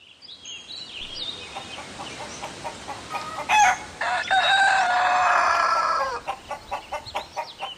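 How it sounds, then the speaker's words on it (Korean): A rooster in a countryside yard in Gangwon crows once, close and clear, its long call rising and then trailing off, followed by a few softer clucking notes. "예전 시골 마당 한편에는 늘 닭 울음소리가 있었습니다"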